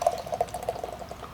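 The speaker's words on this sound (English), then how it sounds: "I know I'm not pouring it right, but I don't care." Shiner Tex Hex Twin Dream double IPA beer glugs and splashes as it is poured into a glass, a close, bubbly gurgle with rapid pulsing rhythm, heard alone.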